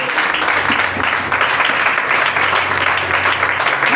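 A church congregation applauds in a sustained, dense wash of clapping that stays loud and steady throughout, with no clear speech over it.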